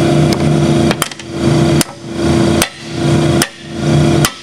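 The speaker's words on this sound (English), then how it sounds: "Now we're going to drive this tapered bearing back onto the shaft." A hammer drives a tapered bearing onto a transmission shaft during a planetary gear rebuild, with five loud, sharp metallic blows about a second apart over a steady hum, close by and without talk.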